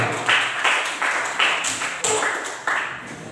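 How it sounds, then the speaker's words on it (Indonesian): A school class claps together in a classroom, a few loud rhythmic bursts of hand claps at regular intervals, close and fairly loud. "tepuk tangan dulu untuk kita semua"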